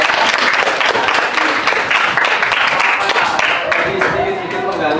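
Applause from a class of eighth-grade students in a school classroom, a dense, steady patter of many hands clapping together for the full stretch, loud and close, with voices mixed in underneath.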